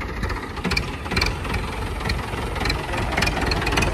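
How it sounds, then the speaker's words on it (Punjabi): A 475 model tractor engine runs steadily as the tractor is driven away, giving a continuous low, rumbling idle-like drone with mild knocking texture at an even loudness throughout, with no talking. "ਅਤੇ ਲਓ ਬਾਈ ਲੈ ਚੱਲੇ ਵੀ ਨੇ ਟਰੈਕਟਰ"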